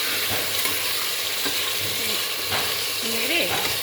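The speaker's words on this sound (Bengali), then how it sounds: "একটু ভাজা, একটু হালকা ভেজে নিই।" Meat marinated with salt, turmeric and oil fries in hot oil in a pan while being stirred. A loud, continuous sizzle is broken by scraping stirs.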